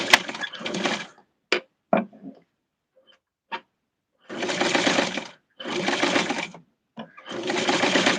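A sewing machine sews a tweed suit for a Barbie doll using a long stitch, running in several close, loud bursts broken by silences and a few sharp clicks.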